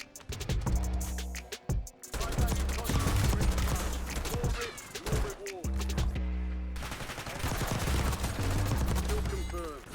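Rapid bursts of automatic gunfire from a video game as the player strafes side to side, loud and nearly continuous over ten seconds with two brief pauses, crackling shots layered over a low game rumble.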